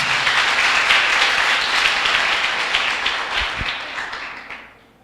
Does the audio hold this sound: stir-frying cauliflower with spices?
no